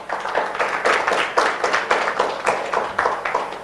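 An audience at a medical conference claps in a fairly close, steady burst of applause, the claps falling in a loose, pulsing rhythm that lasts a few seconds without speech over it.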